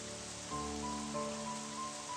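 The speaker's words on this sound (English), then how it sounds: "The rain, her only companion." Steady rain patters through a quiet night scene in the video game Pandora, a constant soft wash with faint sustained musical tones layered beneath, no voices.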